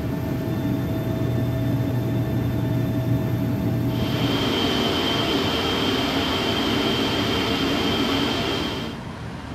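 A PMDG 777-200 airliner taxiing toward runway 19 left in the Prepar3D flight simulator, a steady jet engine rumble joined midway by a bright sustained whine that drops away near the end.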